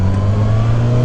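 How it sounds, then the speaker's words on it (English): A 2021 Suzuki Katana motorcycle on its stock exhaust holds a loud, steady engine drone with a deep hum, close and alone with no talk. "Yeah, I like the sound of this stock exhaust. It has a nice sound."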